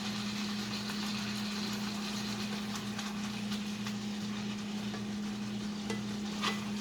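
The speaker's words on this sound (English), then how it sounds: "And I'm going to mix it around" Spaghetti sauce with black pepper stirred in a cast iron skillet, a soft continuous scrape and faint sizzle under a steady low mechanical hum, close and even throughout.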